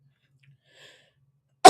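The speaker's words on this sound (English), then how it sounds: "I got a cough." A single short, sharp cough bursts out near the end after near silence, loud and close with no talking around it.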